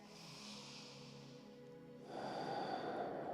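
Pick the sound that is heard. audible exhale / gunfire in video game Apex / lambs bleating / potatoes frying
audible exhale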